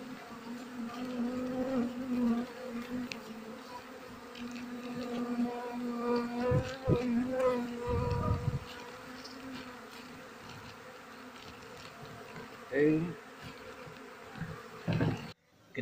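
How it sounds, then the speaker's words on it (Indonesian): A steady, close hum of many honey bees buzzing together during a honey harvest, with occasional louder swells from individual bees near by. "ini lebah madunya kembali naik ke atas"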